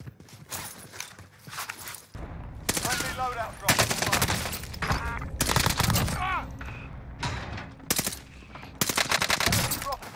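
Bursts of automatic gunfire from an MP5 in a Modern Warfare multiplayer match come in several loud clustered volleys separated by short gaps.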